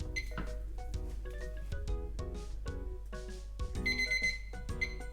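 A kitchen timer going off while rice simmers for meat-wrapped onigiri: a repeated ringing alarm pattern sounds steadily throughout, with brighter beeping tones toward the end.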